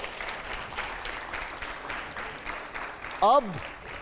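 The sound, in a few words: applause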